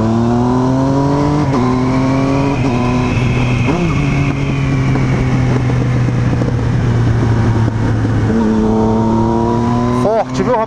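A motorcycle revving hard during a wheelie, carrying a passenger on the back, gives a loud sustained engine drone that climbs and dips in pitch, close to the microphone, with a shift near the end.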